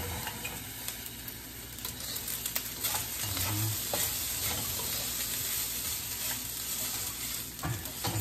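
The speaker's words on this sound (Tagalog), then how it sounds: "dito tayo magluluto ng itlog" Eggs frying in a skillet on a home kitchen stove, giving a steady close crackling sizzle with light stirring scrapes throughout and no talking.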